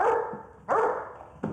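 A very tall dog, a giant breed among the tallest on record, barks twice in loud, close bursts separated by a pause, with a third bark starting at the end; no talking.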